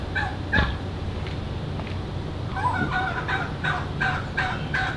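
Chickens at a zoo cluck and gobble close by in quick, repeated bursts, several throaty calls overlapping against a steady background noise.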